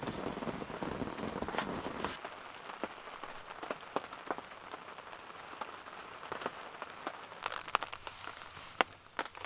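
Rain falls on a wet night in the backcountry, a soft, steady patter scattered with sharper drop taps on nearby surfaces, fairly faint and with no voices.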